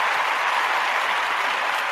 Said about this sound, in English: I'm going to give you a clap.